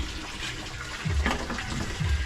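Tap water runs steadily into a sink while dishes are washed at home, with a few low knocks and clatters of handled dishware over the flow.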